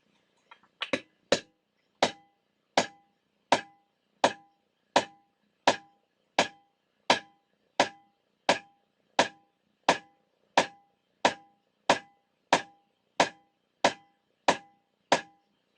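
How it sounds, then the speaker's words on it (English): A rubber hammer taps die-cast aluminum resting on a wood block used as an anvil, giving about twenty evenly spaced, sharp knocks at a steady pace, close and clear with no talking. "Between the hammer being rubber and the block of wood being the anvil"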